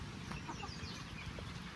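Chickens clucking on a farm, faint and somewhat distant, with soft scattered clucks over a steady outdoor background.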